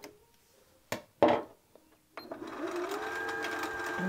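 A Janome 740DC sewing machine starts stitching from its start/stop button. A few light clicks and taps come first, then a steady, close motor whir with a rapid needle rhythm runs to the end.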